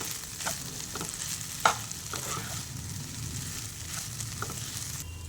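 Cashew fried rice stirred in a hot pan with a soft, continuous sizzle and a few distinct spoon scrapes, one sharper knock standing out, and no voices.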